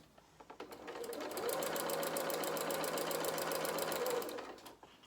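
A domestic sewing machine stitching fabric pieces for a stuffed bear, a rapid even mechanical whirr that winds up, runs steadily for about three seconds, then slows to a stop, quiet and close.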